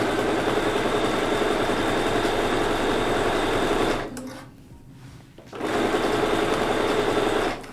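Sewing machine stitching a quilt runs steadily, a close, loud, even mechanical whirr that stops for about a second and a half and then starts again at the same rate.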